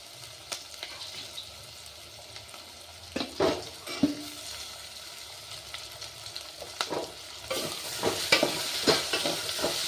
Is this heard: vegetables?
yes